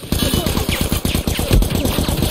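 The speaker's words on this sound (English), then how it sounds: "Ah, it's just one gunshot." Rapid, continuous automatic gunfire in The Last of Us video game rattles steadily throughout, with a few louder cracks mixed into the dense burst of shots.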